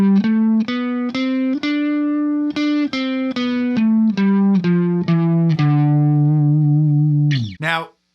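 Electric guitar with a distorted effects tone plays a D Dorian scale from D up to D, about a dozen clean picked notes in even rhythm, close and loud, ending with a brief slide.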